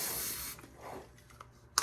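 An aerosol spray can hisses in one sustained burst for about half a second, loud and close, then stops, followed by quieter rustling and a brief sharp sound at the end.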